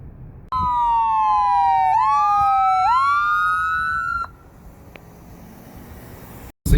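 An ambulance siren sweeps up and down in a loud wailing tone as the vehicle passes on a street in Albuquerque, then cuts off abruptly, leaving quiet traffic ambience.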